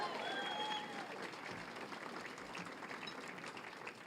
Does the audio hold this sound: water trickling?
no